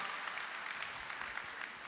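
Audience applause at a round-table panel discussion on sustainable territorial development, a dense, steady wash of clapping throughout, moderately distant and even in level, with no voices standing out.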